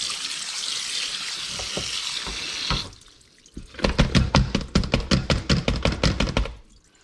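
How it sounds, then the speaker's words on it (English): A kitchen tap runs steadily for a few seconds, then shuts off, followed by a quick run of wet splashes and clatters as cooked noodles are rinsed in cold water. "I took the noodles out, do a cold water rinse"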